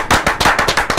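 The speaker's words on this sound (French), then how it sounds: "on applaudit" An audience claps in quick rhythmic bursts at a gospel event, loud and close, steady sharp hand claps filling the moment.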